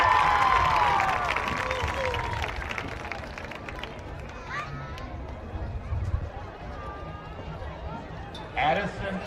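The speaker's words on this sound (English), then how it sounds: "Let us give a big round of applause for Jet Mackey." Outdoor crowd cheering and clapping at a football academy ceremony in Pottsboro, loudest at the start and easing into a steady murmur, with a short renewed burst near the end.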